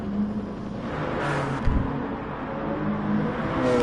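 Peugeot and Porsche race cars at Autodromo Lago Maggiore West II in a one-hour endurance race, a steady loud engine drone with a brief pass-by swell midway, no voices.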